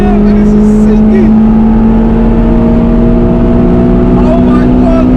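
A 2006 Honda Civic EP3 Type-R with a Stage 2 tune, its engine held at high revs in a loud, steady tonal whine that climbs slightly, heard from inside the cabin with occasional talk over it.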